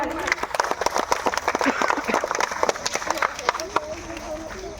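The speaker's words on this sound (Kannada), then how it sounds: "ಜೋರಾದ ಚಪ್ಪಾಳೆ" Loud applause greets a fifth-grade student coming on stage at a school Independence Day event, a dense patter of many hands clapping that stays steady throughout, with voices mixed in.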